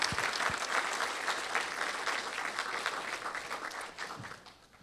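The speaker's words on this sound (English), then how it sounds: "So give yourselves a round of applause for being involved in a historic event." Audience applause fills a museum lecture hall, a dense steady wash of many hands clapping close by that fades slightly toward the end.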